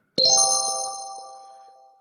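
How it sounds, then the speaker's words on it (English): A phone ringtone gives a single bright, bell-like chime that rings out clearly and then fades slowly over about two seconds into silence. "That's another ringtone."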